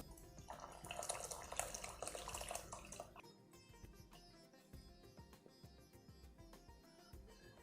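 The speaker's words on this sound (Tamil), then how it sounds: "இதில் வந்து நம்ம பருப்பு ஜலத்தை மட்டும் விட்டுக்கலாம்" Lentil cooking water poured into rasam makes a faint, close, splashing pour for about three seconds, followed by softer trickles and scattered drips, with no talking.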